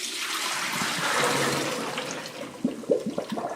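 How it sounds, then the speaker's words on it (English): Salt water from soaked chickpeas pours down a sink drain in a continuous rushing gush that tapers off, then the chickpeas rattle and splash in a strainer at the end. "So once they've been soaked for 12 hours, we're simply going to drain them."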